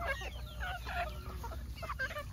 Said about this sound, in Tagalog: Ang update pala sa number ng ating mga native chicken ay honestly hindi ko na alam kung gaano sila karami.